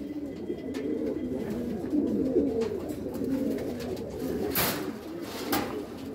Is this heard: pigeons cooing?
yes